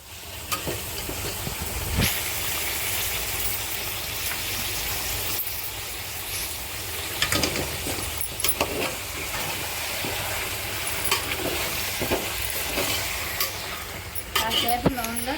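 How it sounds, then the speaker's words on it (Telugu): Chicken pieces with garlic paste fry in hot oil, giving a loud continuous hiss and sizzle with occasional stirring clatter and bursts of spitting. "కాసేపు నూనెలో చికెన్ని మగ్గనిద్దాము"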